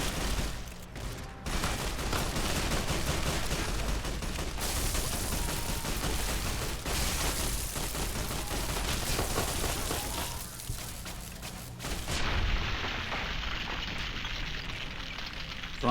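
Dense gunfire rattles through a firefight in Fallout: A Tale of Two Wastelands, with sustained rapid volleys and crackling shots overlapping almost without pause, loud and close, easing only briefly before another burst.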